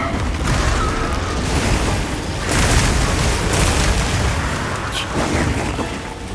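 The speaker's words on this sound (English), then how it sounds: "So it has two different types of explosions." Loud, booming explosions from the Monster Hunter Wilds monster Zoh Shia burst repeatedly in quick succession, heavy and crackling, filling the whole stretch with dense rumbling noise.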